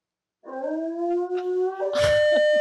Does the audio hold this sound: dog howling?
yes